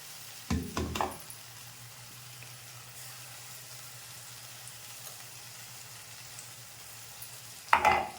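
Coconut, ginger and garlic paste frying in a pan, a soft steady sizzle running underneath, with a couple of scraping stirs near the start and another clatter of the spoon at the end.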